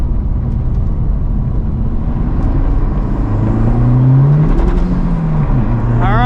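Honda Civic Type R FL5 with a COBB Accessport 93-octane tune on Cup 2 tires, driving at Gingerman race track: steady loud engine and road drone throughout, rising revs in a climbing whine toward the end.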